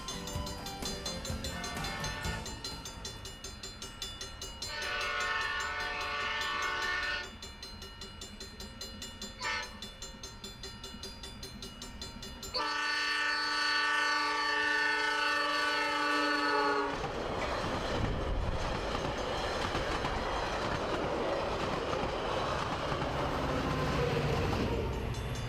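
A Metra commuter train on Chicago's Milwaukee District line passes close by, loud and steady, with horn blasts sounding over the rumble of rail cars and the clatter of wheels on track.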